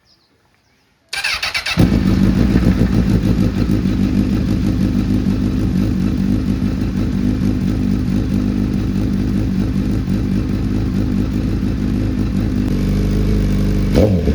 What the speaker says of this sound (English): That was my two-step launch control